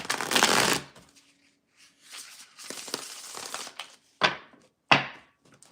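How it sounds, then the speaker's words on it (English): A close tarot card shuffle: one loud riffle, a pause, a longer rustling shuffle, then two sharp taps as the deck is squared. "Last shuffle."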